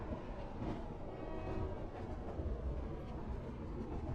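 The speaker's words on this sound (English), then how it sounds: "Now we're taking the subway to the railway station." A subway train runs with a steady rumbling roar and faint rhythmic rail clatter, heard from inside at moderate loudness without pause.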